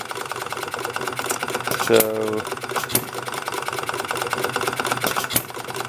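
A model Perkins hit-and-miss engine runs with steady rapid mechanical clatter and periodic firing thumps, close and fairly loud, with a person speaking briefly over it.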